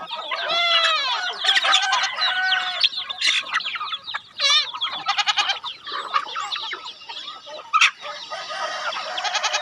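A flock of chickens clucks and squawks close by in a busy, overlapping chorus, with bursts of louder calls and a brief crow-like cry.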